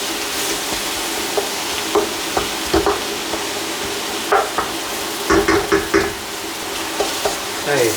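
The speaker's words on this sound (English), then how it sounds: "Just cook that up with the onions." Onions cooking in a pan before beef mince is added for a simple pasta dish, a steady sizzle with intermittent clacks and knocks of a utensil stirring against the pan.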